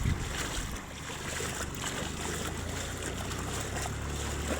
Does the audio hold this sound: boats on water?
yes